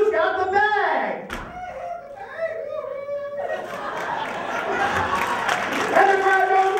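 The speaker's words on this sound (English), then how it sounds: "And the crowd goes wild for him." A crowd at a lively event cheers and claps, building into a loud wash of voices and applause after a brief stretch of an announcer's amplified talk at the start.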